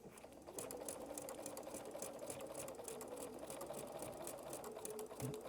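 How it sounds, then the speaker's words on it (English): A continuous close hum of a sewing machine running a serpentine stitch across a quilt, steady and fairly faint from start to finish with no talking. "I'm going to stitch right off of that quilt and go to my next line."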